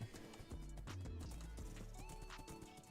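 Minecraft horse galloping along a road, rapid clip-clop hoofbeats running throughout with a neigh and whinny cutting in, close and prominent against light game ambience.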